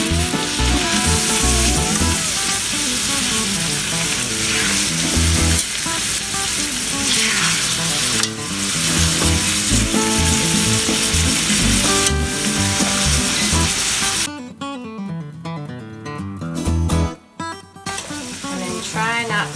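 Steak sizzling loudly and steadily in a hot cast iron skillet, a dense continuous frying hiss close up that drops off sharply near the end.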